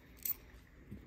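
A brief, faint jingle of a pile of car keys for a 1966 Ford Mustang GT, a quick metallic rattle followed by a softer clink in a quiet room.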